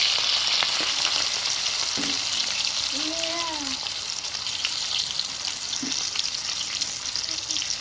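Chili bajji (battered green chilies) frying in hot oil, a steady dense sizzle throughout with a brief faint tonal squeak near the middle and no talking.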